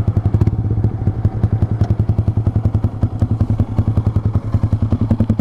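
Yamaha R15 V3 fitted with a Leovince GP Corsa carbon short exhaust, idling while stopped: a steady, fast, lumpy throb with crackly pulses, loud and close, no speech.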